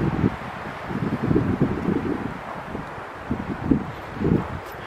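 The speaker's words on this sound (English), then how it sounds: "I'd rather listen to the sound of the wind anyway." Wind blowing during a hike in the Pine Barrens, a steady low rushing and buffeting against the microphone in uneven gusts, with no voices.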